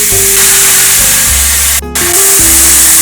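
Marinated chicken with salt, garlic and turmeric roasting on a hot pan over high heat gives a loud, steady sizzle and spray-like hiss, with a brief dip in the middle and low humming underneath throughout.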